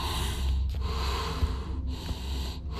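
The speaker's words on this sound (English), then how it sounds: "Someone's breathing down my neck." Heavy, close breathing from an unseen creature in the horror video game Silent Breath, with snorting rasps and gasps repeating over a low droning ambience, no talk.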